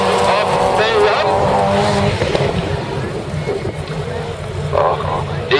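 Race cars roar as they accelerate around the Lövelbanan track, a loud continuous engine drone with shifting pitch, heard beneath an excited commentator's voice.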